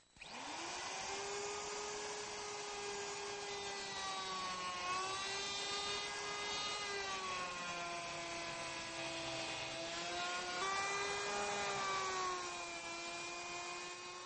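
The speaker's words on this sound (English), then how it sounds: "when I place my router, you see that I'm using a flush trimming bit" A steady, high-pitched router whine drones continuously with slight rises and dips in pitch, loud and close, as a flush trim bit cuts wood.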